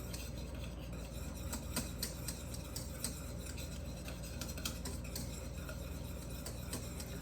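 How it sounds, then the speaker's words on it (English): A whisk stirs thickening chocolate pastry cream in a pot, making a quiet, steady scraping and ticking as the wires brush the metal in a continuous rhythm. "I'm going to keep stirring for about 45 seconds to a minute at the most as it thickens"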